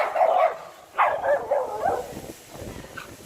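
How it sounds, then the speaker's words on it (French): A dog gives several sharp, yippy barks in quick succession, fairly close, then quiets to faint whimpering sounds. "On a une chienne qui nous suit depuis 50 mètres,"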